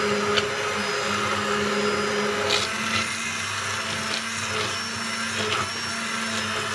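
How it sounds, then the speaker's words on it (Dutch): A blender runs steadily through tomato soup, its motor whirring loudly and continuously with a few faint clicks and scrapes. "Dan kunnen we alles mee blenderen."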